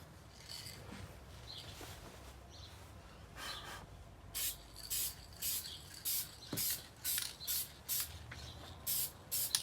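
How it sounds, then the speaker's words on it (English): After some quiet rustling, a spray can hisses in about a dozen short, evenly spaced bursts, close and fairly loud, spray painting wooden Adirondack chair parts. "I'm just gonna spray paint it."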